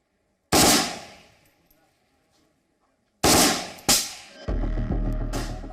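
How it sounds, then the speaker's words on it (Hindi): A Russian rifle fires on full automatic, outdoors: a single loud crack that rings out, then after a pause another blast and a rapid ringing burst of shots. "अब इसको मैंने फुल ऑटो में डाल दिया, फुल ऑटो में डाल दिया है, यानी ये एक बार फायर ट्रिगर दाबने के बाद ये लगातार फायर करेंगे।"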